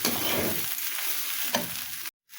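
A vegetarian dish of pointed gourd with polao rice cooks in a hot pan, a steady close sizzle with a few stirring scrapes, then a sudden break into silence just before the end.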